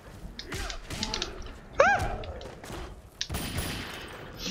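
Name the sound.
gunshots in a video game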